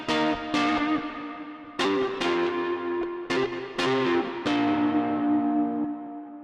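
Melodic Fender Stratocaster electric guitar layer for an alternative pop track, clean plucked notes and chords ringing out with echo and chorus-like shimmer, each attack decaying slowly, played alone with no talking.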